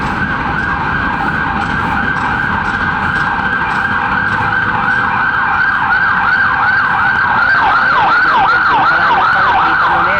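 An ambulance siren wails continuously, its pitch sweeping rapidly up and down, loud and close, over steady traffic rumble.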